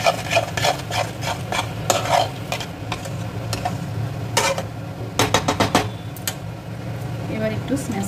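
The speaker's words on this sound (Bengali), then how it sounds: "এবার নুন দিয়ে ভালোভাবে মিশিয়ে নেব।" Pav Bhaji masala mixed with salt is stirred in a pan for Mumbai-style pav bhaji, with a steady scraping and sizzling texture and repeated sharp spoon knocks against the pan, close and fairly loud throughout.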